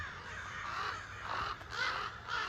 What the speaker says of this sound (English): I'm not too sure what's going on with all the crows out here.